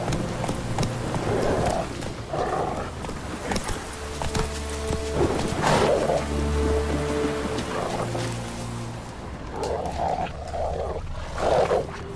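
Roach, Geralt's horse in The Witcher 3, galloping with rhythmic clip-clop hoofbeats under a loud, continuous rumble of wind and game ambience, with snorting bursts at intervals.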